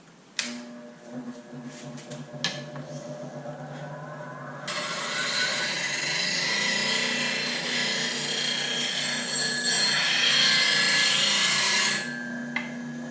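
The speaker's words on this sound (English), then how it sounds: "I'm going to do the 20 degree, then we're going to switch and do the 70." A grinder puts a 20-degree bevel on a negative rake scraper. After a few seconds of quieter light contact and clicks, a loud, steady grinding rasp runs close up for about seven seconds, then eases off at the end.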